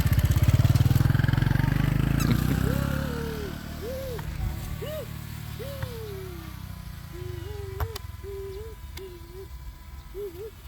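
A motorcycle engine rumbles close by at the Modernland Cilejit development in Indonesia, then fades as it moves off, with chirping birds and faint voices in the background.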